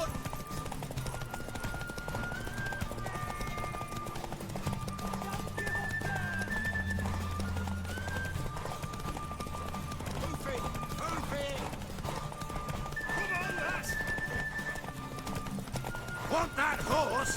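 Horse hooves clip-clopping at a steady run with occasional neighs in The Witcher 3, mixed with game music and the sounds of a race, moderately quiet throughout.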